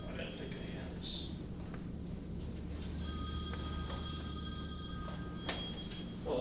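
A mobile phone rings during a town board meeting, its repeated electronic tones sounding above a steady room hum and murmured background chatter.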